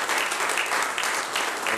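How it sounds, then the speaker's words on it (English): Steady, dense audience applause fills a city council meeting in Oklahoma City, a continuous wash of many hands clapping with no voices over it. "You can, yeah, show your round of applause."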